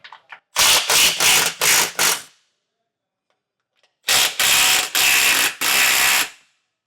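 Ratchet wrench clicking as 15mm bolts are removed and loosened on a vehicle's front skid plate during a Roadmaster base plate install; two loud bursts of rapid ratcheting, the first with four strokes and the second with five after a pause.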